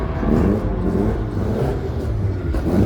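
A car engine at a car meet, a loud close rumble holding fairly steady with slight rises in pitch as it revs, with no talking.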